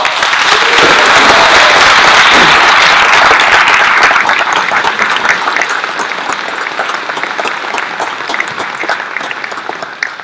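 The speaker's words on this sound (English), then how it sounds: "Please give a round of applause." An audience at a book launch event claps loudly in a full, dense burst of applause that gradually thins and softens toward the end, with scattered individual claps remaining.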